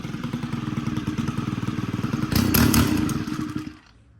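A Stihl FS91R string trimmer's small two-stroke engine runs close by with a rapid, buzzing putter, surging louder briefly before cutting out and stalling near the end.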